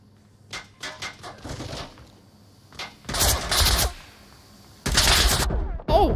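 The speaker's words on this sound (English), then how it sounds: "They're shooting at me." Gunfire in Onward VR: scattered single shots early, then two loud bursts of automatic fire around the middle and another near the end, close and sharp with quiet gaps between.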